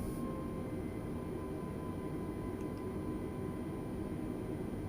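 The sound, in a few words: Airbus A320neo engine power while taxiing, Microsoft Flight Simulator game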